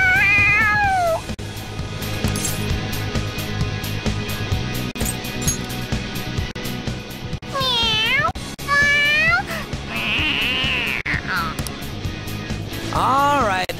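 An excited cartoon cat in the video game Persona 5 meows loudly and repeatedly in rising, wavering cries, mixed with game music and voiced game dialogue.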